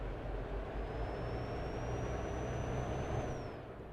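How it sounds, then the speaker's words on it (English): Truck in Euro Truck Simulator 2 with a steady engine drone and road rumble, a faint thin tone gliding high above it, moderate and continuous with no voices. "This truck sounds quite cool."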